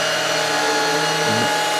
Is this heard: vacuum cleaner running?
yes